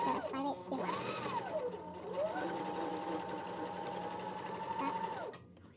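A sewing machine runs a continuous stitching pass along a square pillow seam at a 5/8 seam allowance, its motor whirring steadily and fairly close for about five seconds before cutting off, with a voice talking over it.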